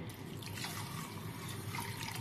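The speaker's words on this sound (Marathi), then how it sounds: "यामध्ये पाणी घालूया आणि 8 तासानंतर पाहूया" Water pours steadily into a container of horse gram set to soak, a continuous splashing trickle close by, with no talk.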